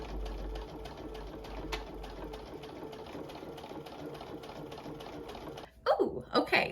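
A home sewing machine runs a straight stitch in a fast, even mechanical rhythm for several seconds, then stops as a voice speaks close by.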